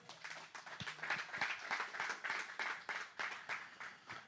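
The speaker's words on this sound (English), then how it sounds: "let's give these guys a round of applause" Faint, sparse clapping from a small workshop audience applauding its sponsors, with individual hand claps distinctly separated in a loose, uneven rhythm that never builds into a roar.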